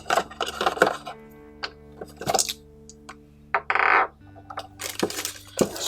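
Small screws from a Blink XT2 smart security camera box clink and rattle in short, sharp bursts close by, with quiet pauses between the shakes.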